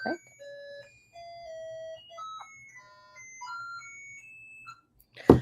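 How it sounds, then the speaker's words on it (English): An electronic alarm plays a chiming melody of sustained tones, followed by a brief burst of noise at the end. "my kiddo has an alarm going off in my house"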